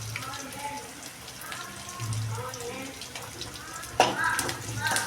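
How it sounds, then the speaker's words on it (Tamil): Mochai kulambu tempering sizzles and crackles in a home kitchen pan, a steady frying hiss with occasional pops and a louder burst near the end, heard beneath someone speaking. "இப்போ குழம்புக்கு தாளிச்சுட்டு இருக்கோம்"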